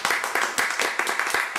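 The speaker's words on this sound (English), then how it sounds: "So how about a big applause?" A small group claps at the close of a home interview, a brief, fairly loud burst of distinct, slightly uneven hand claps with no voices over it.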